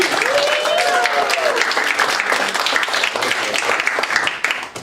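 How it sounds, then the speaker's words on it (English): An improv show audience claps loudly for the performers in a dense, sustained round of applause, with a voice briefly calling out at the start before the clapping tapers off at the end. "let's hear a round of applause for Ryan Delsing and Puppy"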